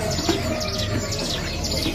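Caged birds at a bird market, including tame songbirds, giving faint chirps and short calls over a busy, noisy background.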